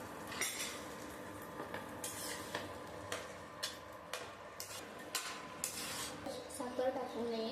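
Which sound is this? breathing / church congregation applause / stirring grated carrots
stirring grated carrots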